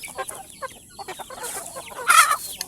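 A Shamo rooster clucks and squawks close by, a short burst of harsh calls ending in a louder crowing cry, with light rustling around it.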